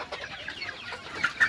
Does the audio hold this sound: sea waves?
no